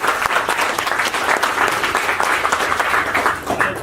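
An audience at a Bitcoin launch event in Nairobi, Kenya, breaks into loud, close applause, a thick, continuous burst of clapping that carries at full strength for nearly four seconds.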